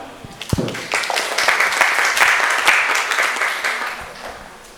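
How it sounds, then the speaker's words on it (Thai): An audience at a seminar on industrial challenges in secure continuous development breaks into sustained applause, many hands clapping steadily and loudly, swelling then tapering off. "ขอเสียงปรบมือต้อนรับผ้วยนะครับ"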